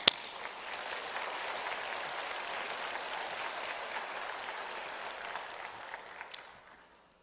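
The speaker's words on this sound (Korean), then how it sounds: "영광의 박수." A church congregation at a Sunday service breaks into sustained applause, a soft, even wash of many hands clapping that begins sharply, holds steady, then fades out near the end, with no talking over it.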